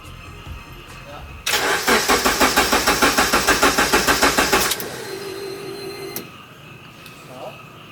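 A Honda Civic with a swapped-in K24 engine is cranked by its starter in a fast, steady chugging rhythm for about three seconds, then settles into a lower idle hum, with faint background noise around it.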